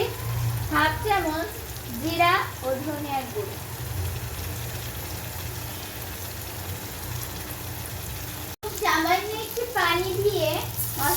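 Chili and turmeric powder paste sautéing for hilsa fish head with bitter gourd, a steady close sizzle with stirring, while a voice chatters over it at moments.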